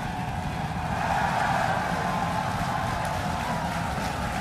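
A SpaceX Starship Super Heavy rocket roars at liftoff, producing a continuous broad rumbling blast that stays steady and dense for the whole stretch, with no voices over it.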